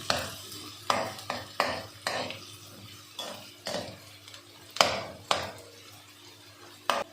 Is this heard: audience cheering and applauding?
no